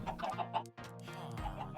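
Minecraft chickens cluck in quick overlapping bursts at close range, broken by one brief pause, with no talk over them.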